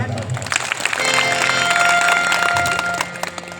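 A crowd at a religious death-anniversary gathering in Shankheshwar breaks into applause, a burst of dense clapping that swells for a couple of seconds and then fades.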